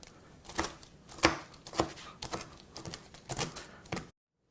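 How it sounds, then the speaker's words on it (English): Knife chopping pieces of meat with fat on a cutting board while making fettuccine: a run of about seven sharp, distinct chops at an irregular rhythm, close and clear, with no talk. "And you start to chop it up. Get it into some nice pieces here."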